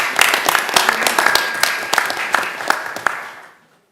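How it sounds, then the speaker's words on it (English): A small group claps at a Board of Aldermen regular meeting, recognizing a Branson resident; distinct individual claps ring out close and loud in an uneven rhythm before fading to silence near the end. "I'd like to give him a round of applause for starting."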